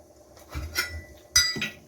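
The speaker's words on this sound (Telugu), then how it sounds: "టమాటా రసం కోసం స్టవ్ వెలిగించి ఒక గిన్నె పెట్టుకుంది." A metal pot is set down on a lit kitchen stove for tomato rasam, giving a couple of sharp clinks and knocks, close and otherwise quiet.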